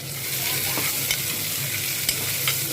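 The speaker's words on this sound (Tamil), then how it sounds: "இப்போ பாருங்கள், நம்ம வெங்காயம் நல்லா வதங்கிடுச்சு" Chopped onions sauté in a pan for spinach kootu, a steady close sizzle with occasional spoon scrapes and stirring clinks throughout, no voices.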